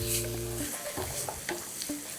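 Capsicum and ginger stir-fried in a hot pan for chilli paneer momos: a steady close sizzle with repeated scraping and tossing strokes of the spatula, no voices.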